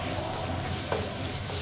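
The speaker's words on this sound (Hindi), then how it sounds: "हल्का सा हमने इस तरह से गार्लिक को सौटे किया" Crushed garlic sautéing in a pan over a medium flame gives a steady, close, even sizzle that runs without a break and with no talk over it.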